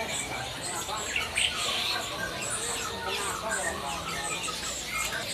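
Canaries in a bird shop kiosk chirp and trill in overlapping bursts, moderately loud amid busy background noise, while a person talks over them.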